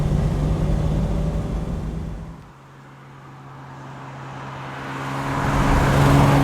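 A 1967 Mercedes 250SL Pagoda drives through a tight S bend, its engine a steady, moderately loud drone with road noise that dips briefly mid-way, then swells back as the car accelerates out.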